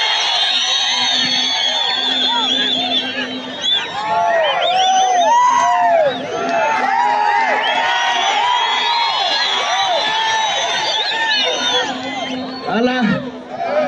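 A large outdoor crowd at a political rally in Narok cheers, whoops and shouts continuously to welcome Deputy President Isaac Ruto. The roar is loud and dense throughout, with excited high-pitched cries rising and falling.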